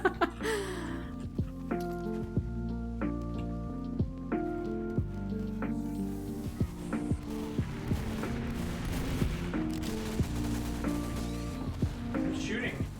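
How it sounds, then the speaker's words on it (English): Sharp, evenly spaced video-game gunshots crack out repeatedly over a steady backdrop of music, with a voice talking intermittently alongside the shots. "Keep shooting."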